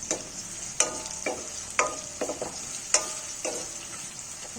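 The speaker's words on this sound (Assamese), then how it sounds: "মছলাখিনি অকণমান ভাজি" Spice mix sizzles steadily in a pan while a utensil stirs it, giving sharp scraping clicks at irregular intervals over a soft, constant frying hiss, with no talking.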